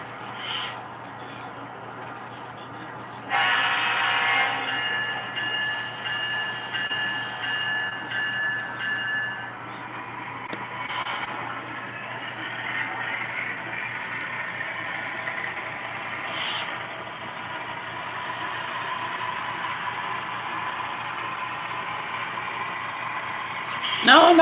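A model train runs on a home layout, a continuous mechanical whir and rumble that steps up in loudness early on and carries on steadily, with a brief higher tone among the running noise.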